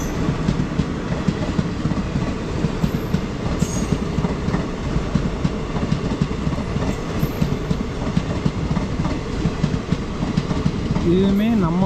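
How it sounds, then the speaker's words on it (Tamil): A Mannai Express train passes on the Tambaram–Trichy main line, heard from aboard a MEMU train: loud, steady rumble with rapid clickety-clack of wheels over rail joints and a brief wheel squeal near the end. "மன்னார்குடி போகக்கூடிய மண்ணை எக்ஸ்பிரஸ் நம்மளால் செங்கல்பட்டுக்கு முன்னாடியே ஓவர்டேக் பண்ணுதுங்க"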